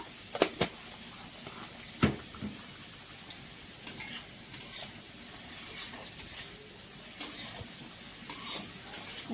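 Garlic and potatoes frying with black pepper in ghee for egg and vegetable chow mein, a soft background sizzle punctuated by irregular scraping and clinking stirs of a utensil in the pan, quiet and close, with no speech.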